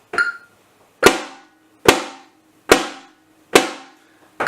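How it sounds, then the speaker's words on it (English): A caixa samba snare is struck hand-to-hand in time with a metronome: five sharp, evenly spaced crisp hits with short buzzy decays, loud and close, alone with the click buried under each stroke. "If you're perfectly in time, your drum will be louder than the click."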